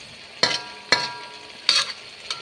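Fish frying in a pan, a continuous sizzle broken by four sharp bursts of spattering and stirring clatter, close by with no talking.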